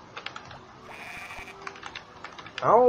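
Sheep bleating in the farming video game Harvest Moon, a loud wavering bleat near the end after quiet game ambience and faint keyboard-like clicks.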